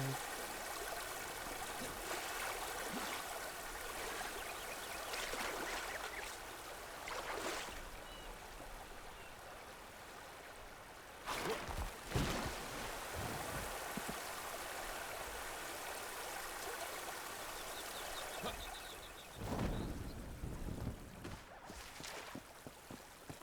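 A waterfall in the video game Enshrouded, a soft continuous rush and trickle of flowing water, faint and steady with a few brief louder splashes, no talk.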